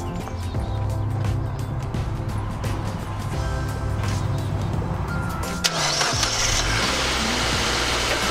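A Mazda Miata engine, just fitted with a KOYORAD performance radiator, cranks and fires up, then settles into a steady, loud idle that rises in intensity toward the end, with no talking.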